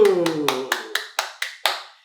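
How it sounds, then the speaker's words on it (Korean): Eight sharp hand claps in a slow, steady rhythm with even spacing, close and clear, each decaying quickly, the first overlapping a brief tonal voice. "박수"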